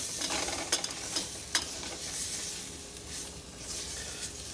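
Onions fry and brown in a pot for French onion soup, a steady quiet sizzle with a few sharp stirring clinks of a utensil early on.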